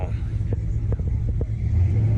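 A V8-powered old Chevy truck idling at an outdoor cars-and-coffee show, a low steady engine rumble with soft thumps, under light crowd chatter nearby.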